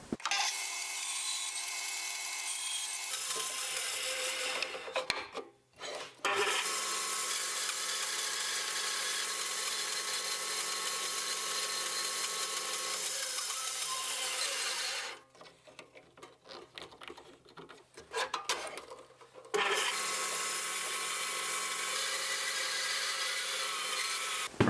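A woodworking machine cuts tenons in oak casement window pieces with a steady loud whir, pausing twice between passes before running again, with no talking.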